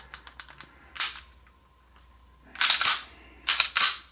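Sharp mechanical clicks from a Springfield XD-M 10mm compact handgun during a dry-fire function check, several light taps followed by two clusters of crisp metallic snaps, close and quiet with no talk.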